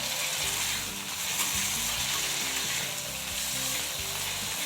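Chana dal sautéing in a pan for a wild-vegetable curry, with a loud, steady sizzle and soft scraping of stirring that runs unbroken throughout, close and alone with no voices.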